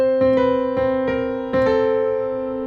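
Piano playing a short chromatic walk in a jazzy, syncopated rhythm, with about five or six distinct struck notes and chords ringing over sustained tones, close and clear with no voices.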